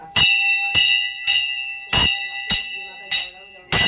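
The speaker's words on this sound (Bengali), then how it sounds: "আর একটু ঘন্টাও বাজিয়ে দিলাম" A metal temple bell at a Baba Loknath temple in the Sundarbans rings out in seven sharp strikes at a steady pace, each bright clang ringing briefly before the next, loud and close.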